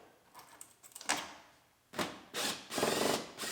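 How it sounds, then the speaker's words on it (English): Plastic push pins being popped out of a car's lower body molding near the rear wheel well, heard as small clicks, then several louder snapping, scraping bursts close by. "And there's a bunch of push pins across the bottom. So just pop those out of there."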